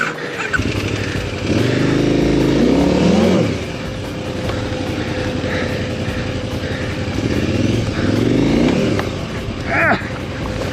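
A KTM 990 motorcycle rides a trail and over a log, its engine droning steadily and loud, swelling in two revving surges with a bump and a short vocal sound near the end.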